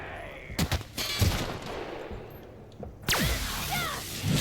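Gunfire in the video game The Outer Worlds during a sneak attack: a burst of loud sharp shots early on, then a sudden blast with swooshing effects after a quiet stretch, set against game ambience.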